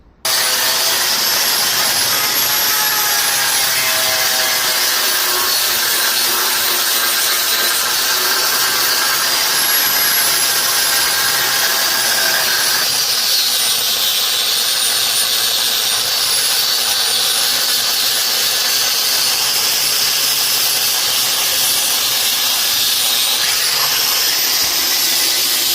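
An angle grinder removes old seam sealer from a 1991 Honda CRX Si body, a loud, close, sustained high-pitched whine with gritty abrasive noise that shifts in pitch as the load changes, running continuously with no talking.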